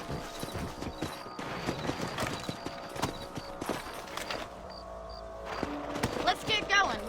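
Horse hoofbeats clip-clop in steady rhythm as riders travel on horseback in the Western video game Red Dead Redemption, loud and close, with voices talking over them, a few whinnies and scattered game sounds.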